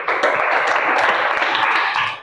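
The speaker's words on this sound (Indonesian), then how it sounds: "berikan tepuk tangan dulu." A school class applauding during a teaching practice session, a dense steady patter of clapping filling the whole moment at moderate loudness, with a faint voice mixed in.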